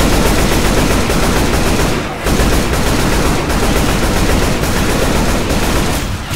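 Shotgun gunfire in the zombie shooter Left 4 Dead 2 on a Death Toll expert run: dense, loud, continuous volleys of blasts mixed with other gameplay noise, with one brief lull near two seconds.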